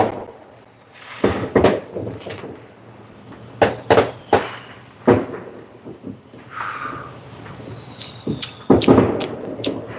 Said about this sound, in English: Because fireworks are going nuts over here.